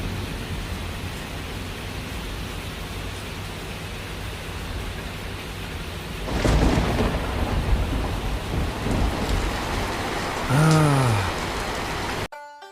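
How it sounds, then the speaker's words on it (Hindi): Steady rain hisses loudly in a thunderstorm, then a close thunderclap bursts midway and rumbles on, with a brief tonal sweep near the end before the sound cuts off abruptly. "जल्दी करो जल्दी, तूफान आ रहा है।"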